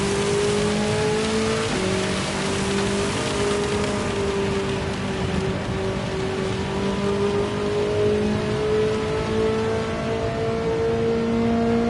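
A race car engine drones loud and steady in Gran Turismo 7 during a Spa endurance race, its pitch stepping as it drops into 4th gear, under a constant hiss of rain.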